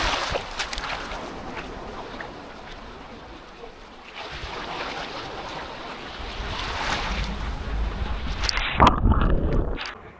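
Waves wash onto the beach at Anclote Key while strong wind buffets the microphone as a storm builds, the surf and gusts swelling louder toward the end before a sharp handling knock.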